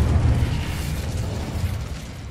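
Incendio fire spell cast in a Harry Potter video game, a loud sustained whooshing burst with a dense, roaring low rumble that slowly fades over a couple of seconds.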